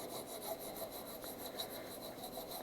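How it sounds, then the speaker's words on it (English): A file rasping along the bevel edge of a plexiglass drypoint plate in quick, even back-and-forth strokes, faint and close with no talking. "The plex is fairly easy to file."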